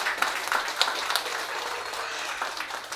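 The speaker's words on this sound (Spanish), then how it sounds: "Todos vamos a dar los aplausos" Guests at a birthday party clapping in applause, a moderate, somewhat distant patter of hands with a few sharper individual claps standing out over a low background hum.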